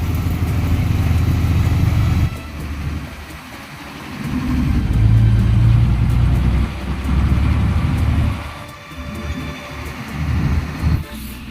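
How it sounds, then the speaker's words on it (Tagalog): Engine rumble and road noise from inside an ordinary bus headed to Barangay Alas Asin in Mariveles, Bataan, swelling and easing as the bus moves. "Sakay ako ngayon ng ordinary bus papuntang Barangay Alas Asin"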